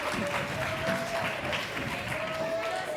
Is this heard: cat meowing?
no